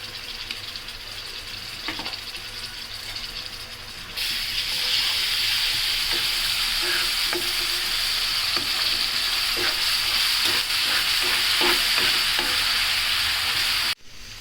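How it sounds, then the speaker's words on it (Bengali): Ginger, garlic and onion paste fries in a pan in a Bangladeshi home kitchen, giving a steady sizzle that grows louder about a third of the way in, with repeated stirring scrapes throughout before cutting off near the end. "আমার পেঁয়াজ রসুনটা ভাজা হয়ে গেছে"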